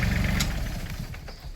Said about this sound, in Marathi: इथं बघा आमची भाऊज हे बघा, म्हणजे बघा ट्रॅक्टर चालवती